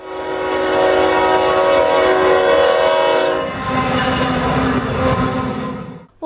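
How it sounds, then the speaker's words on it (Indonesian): A long freight train with many wagons rolls past close by, its horn sounding as a loud sustained tone over the rumble and clatter of the cars, the roar continuing unbroken. "mending coba deh tebak berapa gerbong kereta yang lewat itu"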